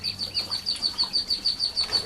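Tiny birds at a bird rescue center in Boise chirp in a quick, regular series of high thin tweets, close by and fairly faint over a soft background hum.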